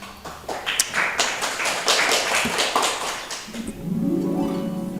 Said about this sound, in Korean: 다시 한번 박수를 부탁드리겠습니다.